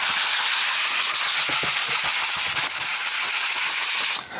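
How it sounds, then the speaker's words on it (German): A hand sander works over a concrete-look coating with continuous loud scratchy rubbing in short repeated strokes, close and steady, easing off at the very end. "Wir fangen an mit dem Handschleifer."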